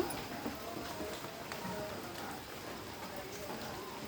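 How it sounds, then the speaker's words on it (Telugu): Heavy rain pours outside as a steady, even hiss with no break, heard faintly from indoors. "బయట ఫుల్గా వర్షం పడుతుంది"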